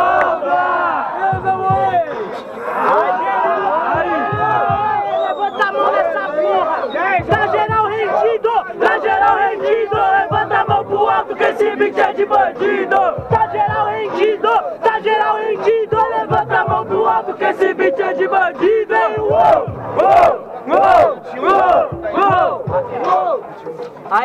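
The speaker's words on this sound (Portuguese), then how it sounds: "Quem gostou das rimas do JP faz muito barulho" A loud crowd at a Brazilian student rap battle semifinal in Guarulhos roars and shouts continuously for over twenty seconds, a dense wall of cheering and yelling voices close around.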